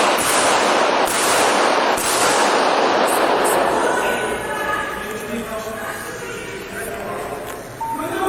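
Rapid police gunfire during an active shooting, loud dense bursts of shots in quick succession with voices shouting underneath, easing into a lower rumble of fire and movement toward the end.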